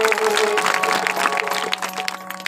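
An audience claps steadily at a village kirtan in Kalegaon led by the saptakhanjeri player Dr. Rampal Maharaj, the dense clapping running throughout with a sustained tonal instrument underneath.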